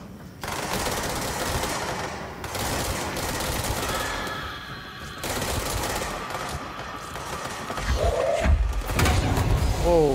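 Rapid automatic gunfire from a mind-controlled enemy in the video game Control rattles in bursts amid mechanical clatter and game effects, loud and close, ending with a sharp blast.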